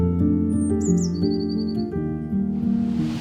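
Birds chirping outdoors, a few short whistled tweets and a sliding call rising over a louder background of sustained tonal music, fairly near, ending with a soft noisy wash.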